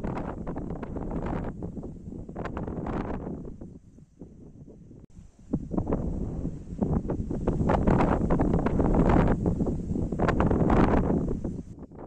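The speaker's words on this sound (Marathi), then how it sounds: "वाऱ्याचा जोर, त्यात हलका पाऊस" Strong gusting wind buffets the microphone on a hilltop fort at Kenjalgad in a monsoon with light rain, a continuous roaring rush that eases midway and then swells louder again.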